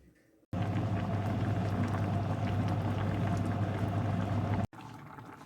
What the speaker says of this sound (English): We're going to simmer it on a really gentle heat for 10 to 15 minutes.